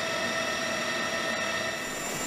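A steady mechanical drone with a sustained whine from a helicopter running nearby while palletized cargo is loaded at its rear ramp, loud and unchanging throughout.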